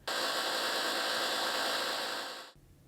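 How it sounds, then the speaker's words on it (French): A neighbor's power drill whirring steadily through a wall for over two seconds, a loud continuous motor whine that winds down and stops abruptly, no talking. "je n'avais pas prévu que le voisin allait mettre un coup de perceuse à ce moment-là"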